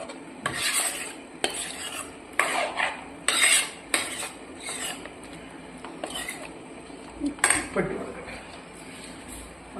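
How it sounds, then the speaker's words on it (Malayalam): Brinjal curry being stirred in a pot, with a spoon repeatedly scraping and clinking against the metal in irregular bursts over a faint background sizzle. "നന്നായി ഇളക്കിയ ശേഷം ഇതൊന്ന് അടച്ചു വെച്ച്"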